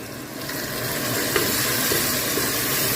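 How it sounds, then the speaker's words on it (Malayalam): Tomatoes and turmeric powder stir in a hot pan, giving a steady close sizzle and hiss with faint scraping from the stirring, no voices. "ഒരു 3/4 ടേബിൾ സ്പൂൺ മഞ്ഞൾപ്പൊടി അതിട്ടിട്ട് ഒന്ന് മിക്സ് ആക്കി കൊടുക്കുന്നുണ്ട്"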